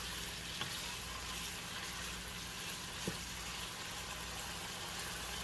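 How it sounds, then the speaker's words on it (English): Steady, dense sizzling of beef browning in a hot frying pan, a constant crackling hiss with a couple of soft clicks. "Got a good sizzling in there."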